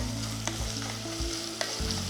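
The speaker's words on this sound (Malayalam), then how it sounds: "അണിയൻസ് ലൈറ്റ് ബ്രൗൺ കളർ ആകുന്ന വരെ കുക്ക് ചെയ്യുക" Onions sizzle steadily in a hot pan with a little added salt, cooking toward light brown for mutton biryani; a continuous loud frying hiss with occasional scraping stirs, no voices.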